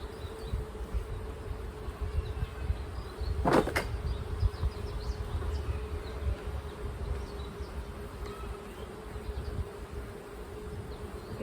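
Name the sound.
bees buzzing around beehive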